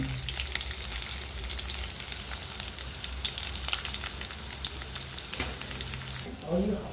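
Mustard seeds, curry leaves, green chillies and asafoetida crackle in hot oil for a Bengali-style dhokla tempering, a steady close sizzle with scattered pops and a louder burst near the end.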